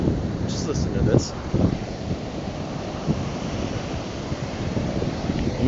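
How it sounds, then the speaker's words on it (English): Wind blows hard across the microphone at Kenai Beach, with ocean waves washing in steadily behind it. The wind roar is continuous and close, and the surf sits underneath it. "minus all the wind noise that you're probably hearing"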